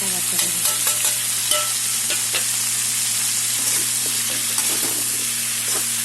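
Cumin and chilli powders frying together in a pan for a Bengali drumstick curry, a constant hissing sizzle with repeated scraping stirs and light clicks close by, no voices.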